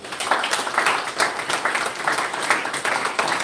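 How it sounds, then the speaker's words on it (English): An audience at a community iftar claps for the volunteers, with steady, fairly close applause from many hands filling the whole stretch without pause. "a round of applause for our volunteers"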